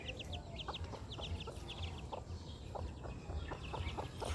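Newly hatched chicks chirping in a yard, many rapid high peeps scattered across the whole stretch with a few lower clucks from a hen, soft and moderately distant over faint outdoor noise.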